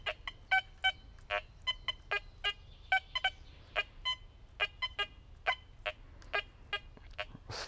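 A Quest X10 IDmaxX metal detector gives an odd signal: quiet, short electronic beeps in irregular bursts, some single and some in quick pairs, over a faint low background hum.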